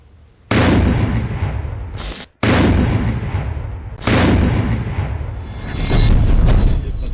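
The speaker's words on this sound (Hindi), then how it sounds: "सीआरपीएफ के निडर बम डिस्पोजल स्क्वाड ने सुनसान मैदान में इस शक्तिशाली बम को उड़ा दिया" Three heavy blasts boom in an open field as a CRPF bomb disposal squad detonates an IED, each loud burst followed by a long rolling rumble and echo, with a brief gap of silence between the first two.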